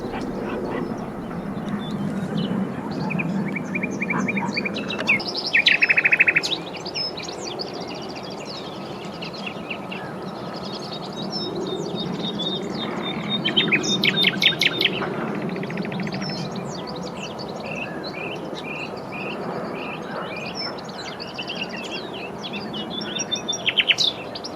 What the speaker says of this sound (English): There were at least 2, maybe 3 nightingales here, all staying too well hidden for us to catch a glimpse of.